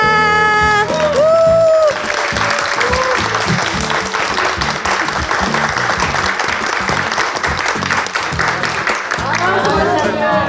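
A studio audience of about a thousand people claps warmly and continuously at the close of a Korean legal talk show, with brief speech and a musical tone in the opening seconds before the applause takes over.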